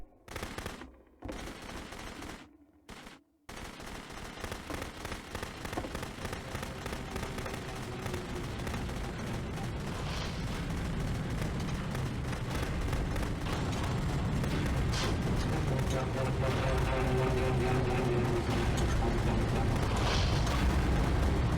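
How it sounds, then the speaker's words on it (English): Gun firing in the video game The Beginner's Guide, a few sharp shots with gaps at first, then a dense rapid rattle of fire building steadily louder and continuous to the end. "Remember, you can click to fire the gun."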